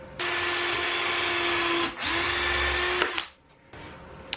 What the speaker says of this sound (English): I'm going to pre-drill.